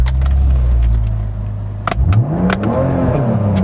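A BMW 330 (E46) car engine cranks and catches, then revs up with a rising, rumbling roar, close and loud.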